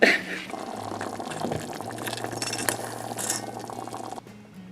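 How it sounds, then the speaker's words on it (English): Water runs steadily from a tap while something is being washed off, with a few faint clinks of glass over the constant flow, until it stops near the end. "I'm going to wash it off."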